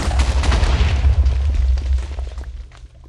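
A Minecraft explosion, likely TNT going off, bursts out as a loud, broad rumbling boom that holds for a couple of seconds and then fades away, with no talking.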